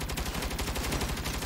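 A mounted turret fires in the Saints Row video game as a rapid, continuous stream of loud, evenly spaced gunshots throughout the short burst.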